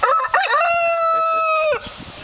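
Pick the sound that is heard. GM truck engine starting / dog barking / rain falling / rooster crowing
rooster crowing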